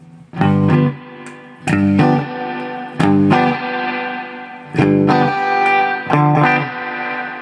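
An electric guitar with effects and distortion strums five ringing chords, one after another, each sustaining and decaying before the next, loud and close with no talking.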